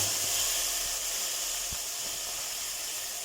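Tomatoes go into a hot pan and set off a broad, steady steaming hiss that holds loud and close throughout, with a faint knock or two underneath and no talking.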